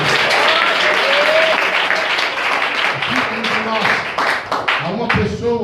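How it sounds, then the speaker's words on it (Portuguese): Church congregation applauding, loud dense clapping filling the room, with voices shouting and praising over it throughout. "Lá, receba palmas e glória a Deus."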